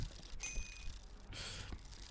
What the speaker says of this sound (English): Ding ding! It has a bell.